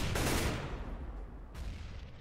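A loud, close burst of gunfire from the Inferno map in a professional Counter-Strike match, a sharp crack followed by a second shot and a fading echo, with no voices.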